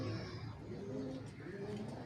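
A large-tailed pigeon coos close by in a series of soft, low, rolling calls, faint and steady against a quiet background hum.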